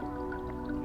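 Steady stream of water poured into the center of coffee grounds during pour-over brewing, a continuous close trickling flow with soft dripping, no talk.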